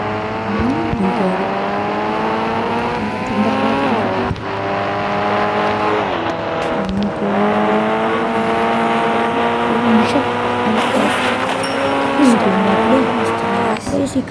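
Ferrari engine in a mobile car-driving game, with steady harmonic revving that climbs and shifts through gears, plus tire squeal, continuing loud for the whole stretch under a voice.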